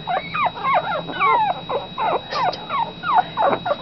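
Several young puppies from one litter whimper and yip close by, a continuous run of high, wavering cries and squeaks with short gaps, fairly loud and without talk.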